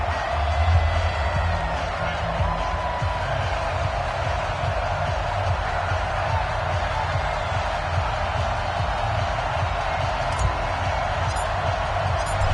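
Steady roar of a large NFL stadium crowd cheering in a PS4 football game, loud and continuous, with a play-by-play voice talking over it.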